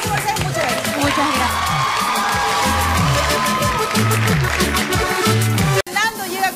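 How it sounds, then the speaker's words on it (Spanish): Studio audience on a Spanish-language morning TV show cheering and clapping, a loud dense crowd roar with whoops and shouts over a rhythmic music beat, cutting off abruptly near the end. "Un bendito aplauso por ser mujer."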